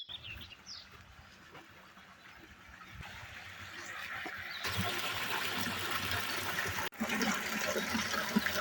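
Well water drawn from a 200-metre-deep village well runs steadily for watering a garden's flower beds, a continuous rushing flow that grows louder and fuller partway through, with a brief break near the end.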